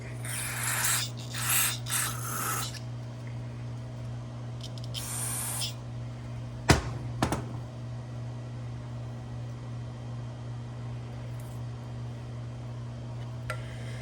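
Several short hissing bursts of cleaner spray from an aerosol can into a Yamaha XT350 carburetor over a steady low mechanical hum, followed by a couple of sharp clicks.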